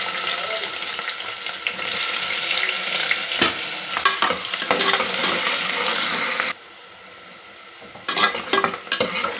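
Chopped onions frying with whole spices like cloves and stone flower for a mutton curry, a dense hissing sizzle broken by stirring clatter, briefly dropping quieter before resuming.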